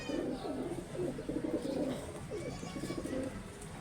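Pigeons coo repeatedly in soft, low, rolling calls, several overlapping at a moderate distance, continuous throughout.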